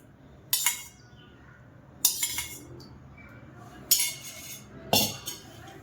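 Spoons or utensils clink against a bowl as turmeric, coriander powder and spices are mixed into mutton, four distinct sharp clinks spaced a couple of seconds apart over a quiet background.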